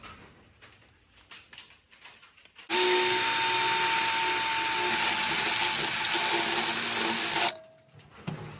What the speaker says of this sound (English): I'll bore some holes through here to allow access to those two mounting bolts